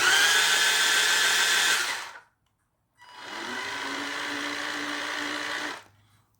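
The electric motor of a Barbie toy ride-on jeep (ex-New Bright Brutus) with a faulty ESC whines loudly and close in two bursts separated by a short silence, the second run in reverse with a lower-pitched tone.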